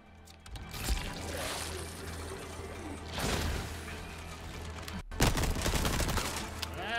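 Rapid gunfire bursts from the Resident Evil 4 Remake Separate Ways DLC crackle in several loud volleys over a steady background of game ambience.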